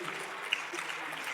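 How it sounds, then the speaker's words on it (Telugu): A church congregation clapping for Jesus Christ, a short burst of dense applause heard at a moderate distance with no voices standing out. "ఒకసారి గట్టిగా యేసుక్రీస్తుకి చప్పట్లు కొడదాం."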